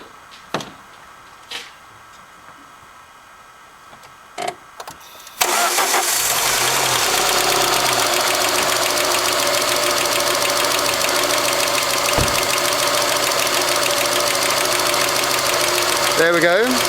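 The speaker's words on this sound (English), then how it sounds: "There we go, it's all fired up. It's got a bit of valve sound." A Peugeot 406 2.0 litre engine, freshly rebuilt after a head gasket replacement, cranks briefly after a few quiet clicks, then fires and settles into a loud, steady idle with a light rhythmic valve tick.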